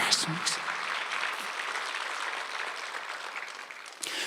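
Sunday-service congregation at a Korean church claps along while meditating on scripture, a moderate, sustained patter of many hands, fairly even, with brief louder touches at the start and end.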